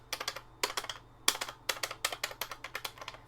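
Large clicky A, B and C buttons on a Sharp Cyber Stick CZ-8NJ2 joystick for the X68000 pressed rapidly, about twenty sharp plastic clicks in quick irregular bursts, close and isolated with no talk.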